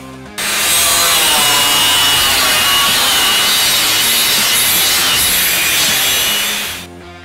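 A Bosch GWS 17-125 angle grinder, a 1700 W professional tool, runs loud and steady for several seconds, a continuous harsh grinding whine that starts abruptly and winds down at the end.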